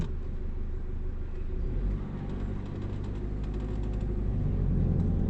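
A car's low engine rumble during a driving lesson as it eases to a gentle stop, a smooth, steady drone with a slight shift partway through and faint mechanical ticks.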